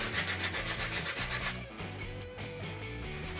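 Wood is sanded on an eyebox by hand, with repeated rhythmic rubbing strokes, close and fairly quiet, each pass a short rasping swish that continues steadily with no talk.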